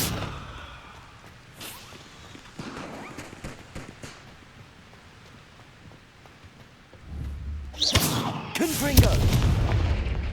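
In Hogwarts Legacy, the Confringo explosive spell goes off as loud booming blasts, a sharp burst early on and a heavier cluster of explosions near the end over low rumbling ambience.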